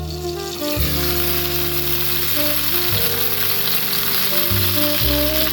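Tomatoes fry in a hot pan with a loud, steady sizzle and crackle throughout, broken by a few low clunks and stirring shifts as the pan is moved.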